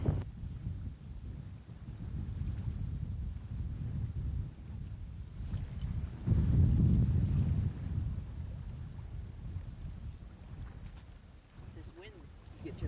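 Steady wind rumbles and buffets the microphone on an Alaska sportfishing outing, loud and continuous with a stronger gust in the middle and faint background sounds.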